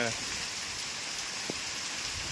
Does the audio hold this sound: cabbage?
no